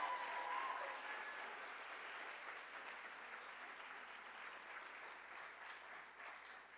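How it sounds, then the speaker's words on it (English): An audience applauds at a live creative talk event, a steady wash of many hands clapping at moderate distance that starts strongest and gradually eases. "Can we give Sandy another round of applause?"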